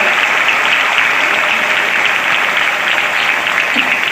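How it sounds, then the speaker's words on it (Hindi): A dense, continuous wash of applause from a large audience at a public ceremony for the state Chief Minister, loud and even throughout, with no voices on top. "जोरदार तालियां माननीय यशस्वी मुख्यमंत्री शिवराज सिंह जी चौहान के लिए"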